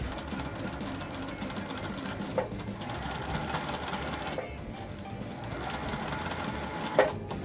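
A sewing machine top stitches a puff quilt block, a steady fast mechanical whir running throughout with a couple of brief clicks as stitching pauses and resumes.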